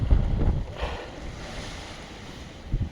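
Strong blizzard wind roaring across a snowy mountain road in East Sikkim during a snowstorm, a steady broadband rush with louder gusts at the start and end, no voices.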